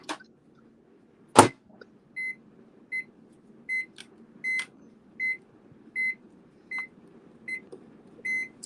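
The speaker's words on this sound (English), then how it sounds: "it's the microwave." Microwave oven beeping, a regular series of about ten short electronic tones roughly every half second to second, moderately loud and clear, with a sharp clunk near the start and no talking.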